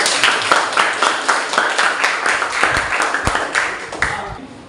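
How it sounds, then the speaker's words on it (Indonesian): A classroom audience of students claps for a presenting group, the separate hand claps clearly audible in an uneven, fairly close patter that thins out and fades toward the end. "Kita berikan tepuk tangan terlebih dahulu."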